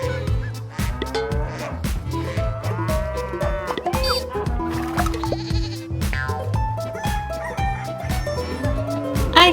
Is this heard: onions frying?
no